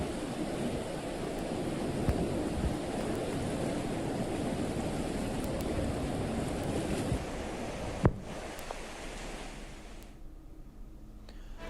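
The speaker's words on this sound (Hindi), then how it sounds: "तो काफ़ी तेज़ धारा जो है वो गंगा नदी के साफ तौर पर इन तस्वीरों में देखी जा सकती है।" The fast-flowing Ganga river in flood in Uttarakhand gives a steady, heavy roaring rush of water with wind buffeting the microphone, continuous and loud throughout and easing slightly near the end, with no voices.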